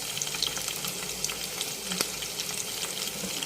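Onions with green and dried chillies sizzle in hot oil as a steady crackle, with light ticks and pops throughout and one sharp tap near the end.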